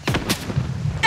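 A couple of quick shots crack close together in the shooter Project BloodStrike, followed by a low rumbling tail and a brief bright clatter at the end.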